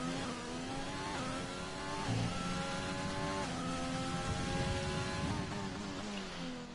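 A race car engine revs hard in a racing video game, climbing through repeated gear shifts with rising whines and brief dips, loud and continuous with no talk.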